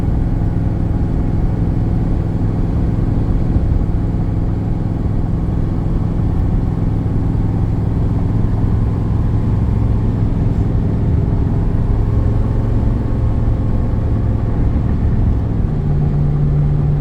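A 2007 Ford F150 pickup truck's engine while driving, a steady, loud, low drone throughout with road rumble and no talking.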